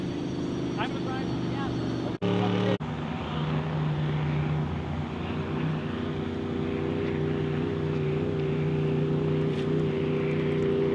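A vintage racing hydroplane's engine drones loudly and steadily throughout, a rough low roar with a brief sharp interruption early on; voices can be heard underneath.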